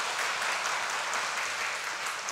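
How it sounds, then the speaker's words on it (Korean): A church congregation applauds steadily after a hymn of praise, an even wash of many hands clapping at a moderate distance with no voices over it. "박수하겠습니다."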